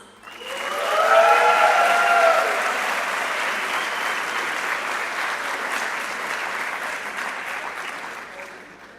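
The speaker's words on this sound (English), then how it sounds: "Please give her a warm round of applause" A graduation ceremony audience breaks into warm applause for a student speaker, clapping swelling quickly from a large hall, peaking, then holding steady and slowly thinning, with a few brief cheers early on.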